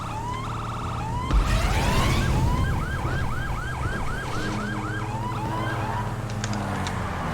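A wailing police siren from GTA 5 Online, with rapid whooping yelps, sounds close and loud over engine noise and other game effects.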